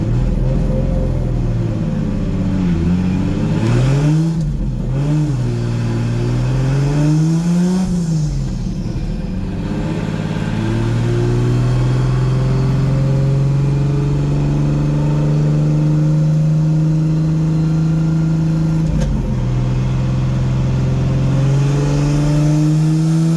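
A drift car's engine revs up and down in a few rising sweeps, then holds a long steady high-rpm pull before a brief drop and another climb, loud and close.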